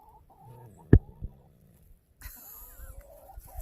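Chickens cluck softly and sporadically nearby in a quiet setting, with a sharp knock and some rustling partway through.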